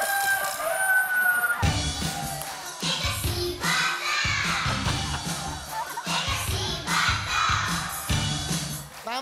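A flock of chickens clucks continuously, with a rooster crowing over the busy, close-up barnyard chatter.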